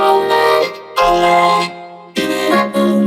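A vocoder-processed vocal with reverb and delay, harmonically rich chord-like phrases in three loud sustained bursts with short gaps where echoes ring on.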